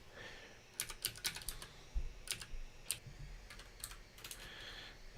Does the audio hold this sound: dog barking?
no